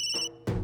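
A mobile phone ringtone plays in two loud bursts of bright, steady electronic tones, a sharp gap between them, with no talking.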